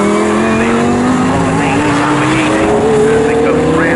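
GT Cup Championship race cars lapping a circuit on the last laps, a loud steady engine drone with a rising pitch as cars pass, under continuous commentary.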